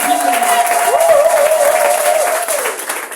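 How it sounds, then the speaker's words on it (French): A church congregation applauds steadily with a crowd's dense clapping, while a voice speaks over it. "Acclamez pour le Seigneur pour leur vie."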